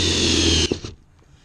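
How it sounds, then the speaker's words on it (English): An electric drill fitted with a stepped uni-bit bores a hole through metal sheet from an old car roof for a Saab 96 restoration, a steady loud whine that cuts off abruptly and leaves a few faint clicks. "I'm using a uni-bit. I really like these uni-bits for metal"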